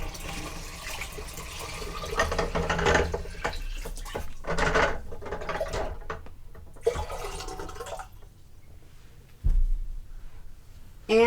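Water splashes and gurgles as it is poured from a container into a Nesco (Carey) electric canner, a steady pour that tapers off, then brief clunks and a final short splash.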